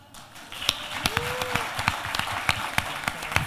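Audience applause at the SNSC 2020 Grand Finale, a schools championship event, honoring sponsors: steady clapping from a crowd with sharp individual claps standing out, fairly close and sustained throughout.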